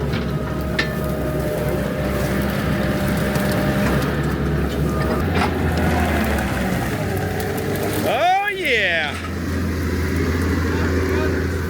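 A Caterpillar bulldozer, a D8H or HD11 being rescued from scrap on a formerly gravel lot, rumbles steadily with a low engine drone throughout, a sharp metallic screech sweeping in briefly near the end.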